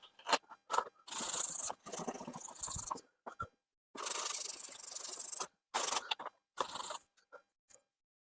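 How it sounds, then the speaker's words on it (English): Hand sanding scrubs overspray off the back of a cracked plastic bumper from a salvage Aston Martin DB7 V12, heard as quiet, uneven rasping strokes in short bursts separated by pauses. "So I'm just going to sand it down a little bit."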